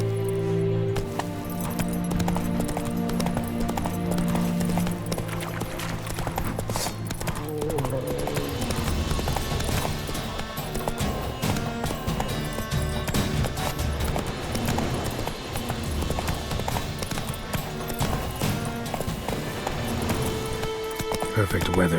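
Hooves of Roach, a horse in the video game The Witcher 3, clip-clopping in a steady galloping rhythm under game music and ambience, with voices speaking at times.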